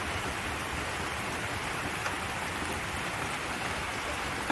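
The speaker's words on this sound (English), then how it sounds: "It's a rainy day, stormy day out." Steady, dense rain pours down on a stormy day as a continuous hiss of drops striking surfaces, even and unbroken throughout, with no voices.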